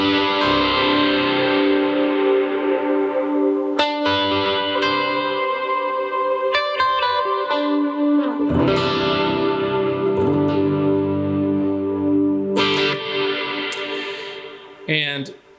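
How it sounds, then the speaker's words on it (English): Electric guitar played through a reverb effect from a budget guitar rig, with sustained chords and single notes ringing out in long washy tails, struck several times in phrases, loud and close with no voice. "Let me just show you in my normal reverb sound."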